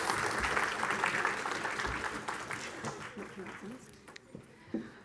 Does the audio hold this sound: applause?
yes